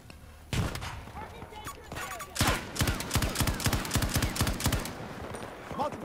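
Rapid gunfire crackles in a Battlefield 2042 Rush match, with dense volleys of automatic shots and distant bursts over game noise, while voiced callouts are heard.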